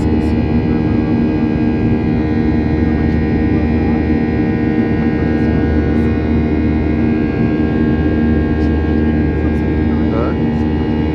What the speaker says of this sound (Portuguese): essa foi a decolagem